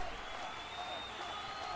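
Crowd murmur fills a packed T-Mobile Arena before a fight card, a steady, distant wash of voices and light applause with no single voice standing out.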